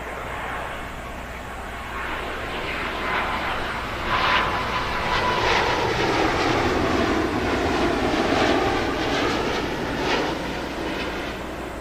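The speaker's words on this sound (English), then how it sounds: "It's a 777-200ER inbound from Delhi." A British Airways Boeing 777-200ER arriving from Delhi lands at London Heathrow, its engines a broad, steady roar that swells slightly midway and holds loud throughout, with no voices.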